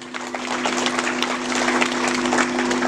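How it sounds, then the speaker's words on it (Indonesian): Audience applauding at a Christmas celebration held by a Tanimbar community association in Papua, a steady, dense wash of clapping that holds at an even level from start to finish with no voices on top. "Kita memberikan aplaus dulu untuk kita semua."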